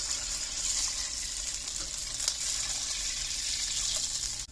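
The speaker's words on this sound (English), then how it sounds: "I'm going to add 2 cups of water" Water poured into a cooking pan while making Szechuan pork, a steady broadband hiss and splash running continuously near the mic for several seconds, with faint sizzling underneath and no talk.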